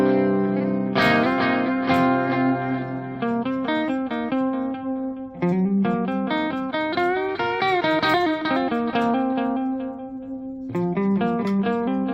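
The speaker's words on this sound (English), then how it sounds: "Here's what it's going to sound like with the delay" A clean electric guitar played through a delay effect picks a melodic phrase of single notes and chords, each note repeating and trailing into echoes, steady and fairly loud with no talking.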